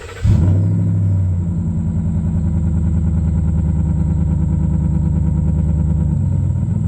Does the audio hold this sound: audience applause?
no